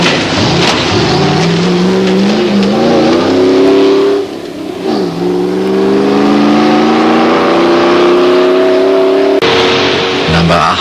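A Range Rover rally car competing in a 1987 AWDC safari event, its engine loud and close, revving up through gears in rising sweeps with a brief dip between, under a commentator's voice.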